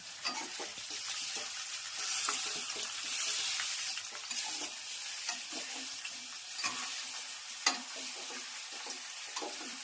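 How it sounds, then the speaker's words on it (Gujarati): Hot oil sizzling and crackling steadily with a few sharp pops and stirring sounds as a sesame-seed tempering for patra fries, moderately loud and close, with no talking. "સરસ મજાનો પાત્રાનો વઘાર થઈ ગયો છે"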